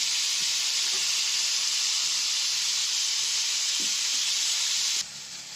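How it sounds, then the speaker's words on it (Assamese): Chopped spinach and onion leaves fry in hot oil, giving a steady, bright sizzling hiss with faint stirring taps, held at an even level before cutting off abruptly near the end. "এনেকৈ দি মই ভালকৈ এইখিনি তেলখিনিতে ভাজি থাকিম অলপ দেৰি"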